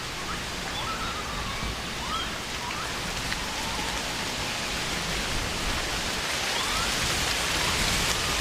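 Steady rain falls continuously, a dense even hiss of drops on surfaces with no pauses, moderately loud and alone.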